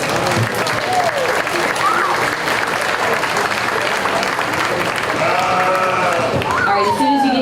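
An audience applauds exhibitors at a county fair lamb show, steady dense clapping with voices and occasional whoops mixed in, and a lamb bleating faintly near the end.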